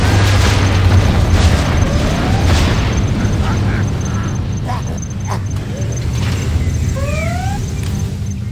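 Deep booming explosions from a high-speed bomber's payload in the PC strategy game Command & Conquer Generals, continuous low rumbles under battle noise and brief whistling tones, with a voice announcing in the game.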